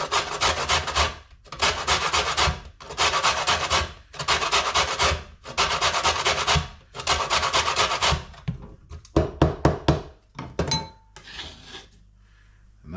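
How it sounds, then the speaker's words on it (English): Lemon zest being grated, close rhythmic rasping strokes in about seven even bursts, then a few quicker scrapes, a couple of light clinks and a quiet tail. "we're going to get a little bit of lemon zest"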